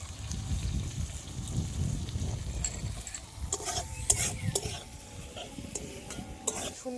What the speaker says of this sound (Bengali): আমি এবার কাঁচা লঙ্কা পাটা দিয়ে দেবো এক চামচ মতন জিরে গুঁড়ো মরিচের গুঁড়ো দিয়ে দেবো